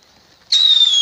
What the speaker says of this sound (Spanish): Metí un cohete blanco.